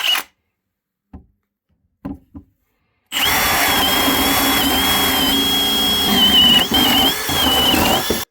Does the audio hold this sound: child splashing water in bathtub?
no